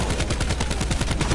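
Rapid automatic gunfire from the zombies mode of Call of Duty Black Ops 4, a steady loud rattle of shots at a fast even rhythm with no pauses, heard alone.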